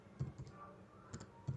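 A few scattered computer keyboard keystrokes in a quiet office, isolated clicks in small clusters rather than steady typing, close and soft.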